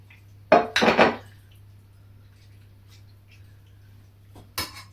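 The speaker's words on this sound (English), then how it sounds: "So I'm going to tip the pasta, the bacon, the sauce, the onions, tip everything in." Pasta, bacon, sauce and onions are tipped into a baking dish: a quick burst of clattering scrapes and soft thuds early on, then quiet with a low hum, and one more short scrape near the end.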